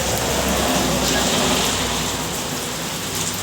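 Sudden heavy downpour on a trip home toward Luciana, Laguna, a dense, steady roar of rain drumming on a cover, loud and unbroken throughout.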